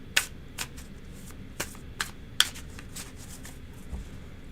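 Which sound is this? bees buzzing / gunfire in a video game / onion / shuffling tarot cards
shuffling tarot cards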